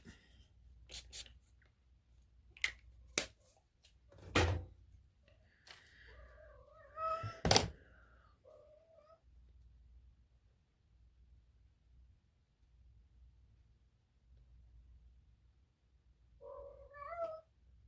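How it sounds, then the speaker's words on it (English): A house cat meows twice, a longer wavering cry midway and a shorter one at the end, against a quiet room with scattered soft tapping and rubbing sounds. "My cat's meowing."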